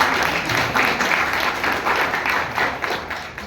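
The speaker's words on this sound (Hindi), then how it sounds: "ताली तो बनती है, बजाओ चाहे ना बजाओ।" Audience applause at a public talk on the Indian Constitution, a steady wash of many hands clapping that holds for the whole stretch with no voices over it.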